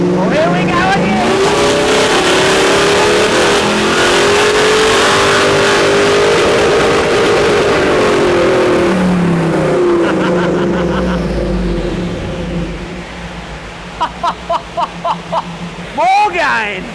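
Supercharged Nissan Y62 Patrol engine revving loudly, a sustained rising and falling roar that climbs then fades, followed by a few short blips of the throttle near the end, with people talking in the background.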